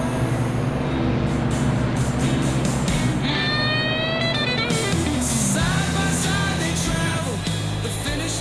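Race cars at the Nürburgring roll toward the start line for race 1, a loud continuous engine roar with rising and falling pitch sweeps as several cars pass close by.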